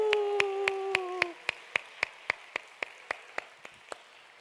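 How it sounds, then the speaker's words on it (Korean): Church congregation clapping in slow, steady unison at a Friday evening service, sharp evenly spaced claps of moderate, distant loudness that continue after a few held musical tones fade out early. "그분들을 위해서 박수."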